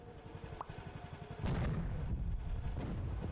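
Tank gunfire in the Henry Stickmin video game: rapid rattling shots, then two heavy booming blasts that sound loud and close, with rumbling decay between them.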